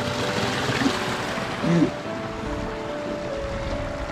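Mountain waterfall on a lake-country hiking trail in the Pyrenees, a steady broadband rush of falling water heard from nearby, with a brief voice rising over it partway through.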